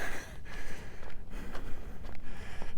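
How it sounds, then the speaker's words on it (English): Heavy breathing of a person walking uphill outdoors on a trail near a lake in Kelowna, BC, on a warm day; steady rhythmic breaths with repeated bursts over a constant outdoor background. "I apologize for the heavy breathing."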